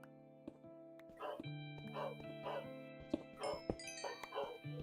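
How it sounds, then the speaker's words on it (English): Dogs barking and yipping indoors in short repeated bursts, fairly faint, mixed with a voice and game background music. "Sorry about the dogs, by the way."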